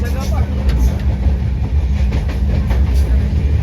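A Konkan Railway train rumbles steadily along the rails, a continuous low roar with faint rhythmic clatter, close and fairly loud.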